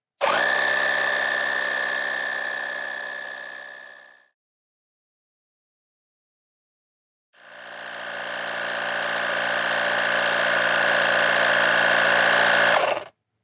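A tiny portable pump runs to inflate a tire, a loud, close, buzzing motor drone in two bursts of about four and six seconds separated by silence, each cutting off abruptly.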